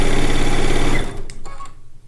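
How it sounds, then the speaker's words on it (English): A sewing machine stitches quilt blocks together in a loud, steady run that stops about halfway through, followed by a few light clicks and handling sounds. "I'm now sewing 4 blocks together."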